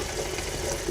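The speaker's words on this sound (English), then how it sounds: "I'm gonna put them in this pot and rinse them off" Tap water runs steadily into a pot to rinse cut cauliflower florets, a brief close gushing sound with no voices.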